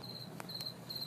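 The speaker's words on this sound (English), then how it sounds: "Shh, Mr. Crickets, it's morning time. Your job is done." Crickets chirp faintly in quiet morning air, a thin high trill in short repeated bursts broken by a couple of soft clicks.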